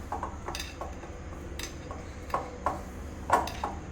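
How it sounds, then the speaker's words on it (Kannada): Potato ball ingredients being mixed in a bowl, a utensil scraping and tapping against the sides in irregular quiet clinks, with a few sharper knocks toward the end and no talking. "ಈಗ ನಾವು ಇದೆಲ್ಲ ಮಿಕ್ಸ್ ಮಾಡ್ಕೊಳ್ಳೋಣ"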